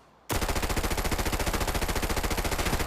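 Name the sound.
MPX gun shooting at dummies in Arena Breakout video game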